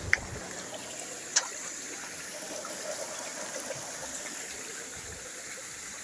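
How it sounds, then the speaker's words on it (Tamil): Soft, steady rush of water flowing in a forest stream in Sri Lanka, fairly distant and constant, with a couple of faint clicks and no talking. "தண்ணி வருது"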